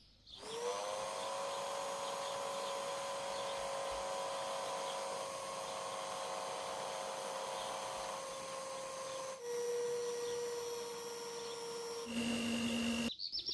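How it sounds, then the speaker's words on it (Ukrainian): Electric hand mixer running on low speed through cake batter as flour is added, a steady close whine that drops pitch partway through and shifts again near the end. "Включаю міксер на слабих оборотах і поступово додаю муку."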